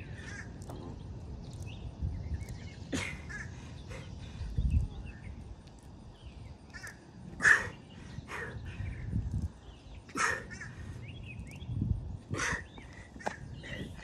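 A bird caws several times outdoors, with harsh, widely spaced calls at moderate volume over a low background rumble and no speech.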